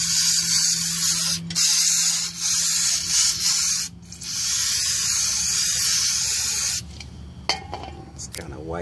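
Zep brake cleaner hisses in long, steady, forceful bursts from an aerosol can onto a Ford Mustang wheel. Several sprays are cut by brief pauses, and the last one breaks into short rattling blasts. The can is close and loud.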